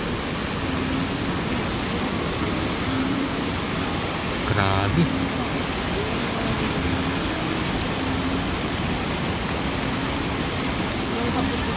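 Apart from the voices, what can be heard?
strong river current of rushing water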